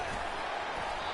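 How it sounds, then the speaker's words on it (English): A football stadium crowd roars in a dense, steady wall of noise during a college game, loud and continuous with no pauses. "listen to this crowd roar"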